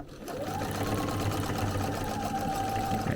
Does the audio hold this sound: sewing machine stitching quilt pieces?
yes